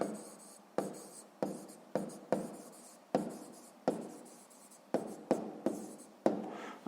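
A pen writes on paper in short strokes separated by brief pauses, close and fairly quiet, with no speech.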